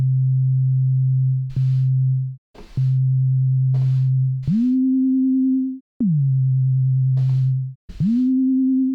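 Synthesized tone in Renoise modulated at four lines per beat, a loud steady electronic hum that cuts in and out in a choppy rhythm and jumps between a low and a slightly higher pitch, with clicks at each switch.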